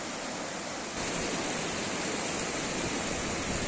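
River water rushes continuously around a crashed Swift car lying in the riverbed after an accident, a dense, steady broadband roar close by with no voices.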